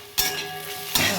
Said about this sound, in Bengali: দিয়ে আবার এটাকে ভালো করে ভাজা ভাজা করতে থাকবো